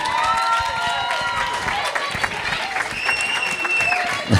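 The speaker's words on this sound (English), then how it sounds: "How about a big round of applause for Lauren," Wedding reception guests applaud for the bride in a dense, steady wash of clapping with scattered cheers, filling the room at fairly close range.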